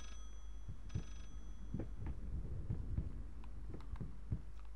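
A telephone rings faintly in the horror video game Layers of Fear, with one brief distant ring standing out over a low, murky ambient drone and scattered soft knocks.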